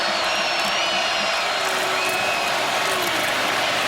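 Florida State home crowd roaring in the stadium end zone during a 2017 college football game against Alabama, a dense, continuous wall of cheering and whooping from a large distant mass of fans.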